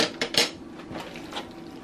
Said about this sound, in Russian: Хорошенько перемешиваем.